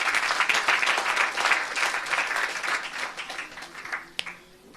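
A church congregation applauds the Lord during a healing meeting, a dense burst of hand clapping that swells and then thins out, ending with one sharp clap.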